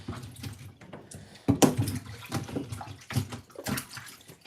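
Celery being washed and rinsed under running tap water in a kitchen sink: a steady splashing stream that rises and falls as the stalks are moved through it, close and fairly loud.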